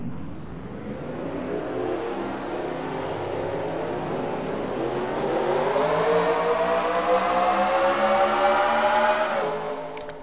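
Race cars rolling off at the start of a racing video game, a steady rising engine drone with layered harmonic whine building over ten seconds, then cutting off abruptly.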